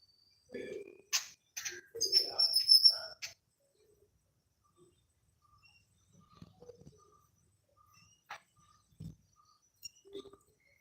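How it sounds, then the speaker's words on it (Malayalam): Several short bird chirps and calls, fairly close, in bursts early on, then sparse faint tweets over a quiet background. "ചപ്പല കിളികൾ ശബ്ദം ഉണ്ടാക്കിക്കൊണ്ടിരിക്കുന്നുണ്ട്"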